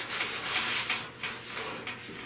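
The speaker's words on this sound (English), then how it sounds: "I just want to come in and sand this down." A 1970 Buick Wildcat fender is sanded by hand in an auto restoration, heard as close, rhythmic rasping strokes that rise and fall in repeated passes.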